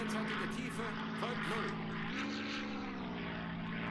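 A Hurricane propeller fighter plane drones steadily overhead in the Silent Hunter III video game, its engine pitch shifting slightly as it passes.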